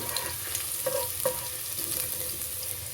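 Garlic sautéing in a pan for pork adobo with eggs, a continuous close sizzle broken by a few spatula knocks and scrapes, no talking.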